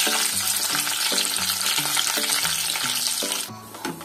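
Sev for Kerala mixture frying in oil, a continuous loud bubbling sizzle with a regular series of low pressing knocks, easing off near the end.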